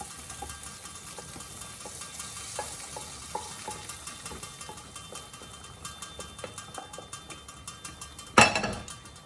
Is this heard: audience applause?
no